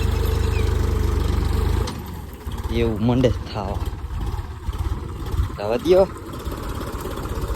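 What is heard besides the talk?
tractor engine running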